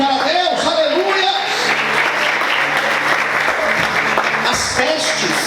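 A church congregation applauding to praise God, a loud sustained clapping crowd that fills the whole span, with voices mixed in underneath.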